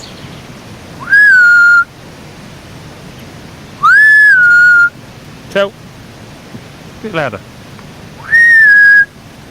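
Three loud, sustained whistles, each rising then holding a steady pitch, separated by pauses with rain-like hiss and brief voices between them.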